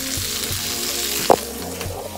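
Food sizzling in olive oil inside a covered pot, a loud, steady frying hiss that carries on throughout with one brief sharper pop or clink near the middle and no talking.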